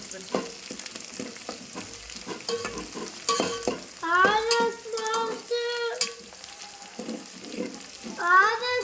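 Frying and stirring in a pan until golden for a Muslim-style mint rice, soft sizzling under repeated scraping and clinking strokes, with voices talking over it at times.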